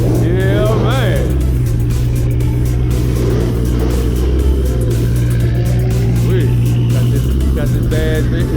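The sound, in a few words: Ford Mustang engine revving at car show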